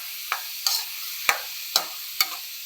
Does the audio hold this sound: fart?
no